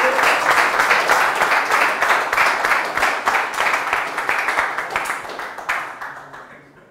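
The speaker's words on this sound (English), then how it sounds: "Ladies and gentlemen, give him a round of applause." Studio audience applauds a quiz show contestant with brisk, close, rhythmic clapping, full at first, then thinning out and tapering away near the end.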